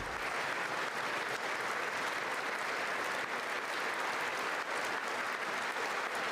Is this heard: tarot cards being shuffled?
no